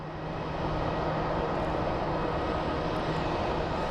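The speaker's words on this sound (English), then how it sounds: "this is an A321 that is getting ready for departure" An Airbus A321 airliner sits at the airport preparing for departure while bags are loaded, its engines producing a constant, loud, broadband roar that holds steady throughout.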